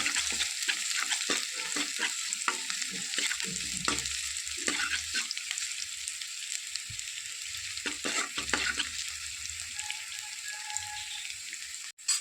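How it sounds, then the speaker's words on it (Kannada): Finely chopped ginger frying in a pan alongside garlic for squid sukka, a bright, dense crackling sizzle that holds steady throughout at close range, with occasional stirring, no talk. "ಇವಾಗ ಶುಂಠಿ ಹಾಕಿದ್ದೇನೆ ಇಲ್ಲಿ ಸಣ್ಣಗೆ ಹಚ್ಕೊಂಡು ಹಾಕಬೇಕು"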